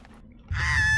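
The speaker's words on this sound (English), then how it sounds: "Is that? A duck?" A cartoon duck call in an SMG4 animation: a sudden loud, nasal honking quack bursts in halfway through after a quiet stretch and holds steady to the end.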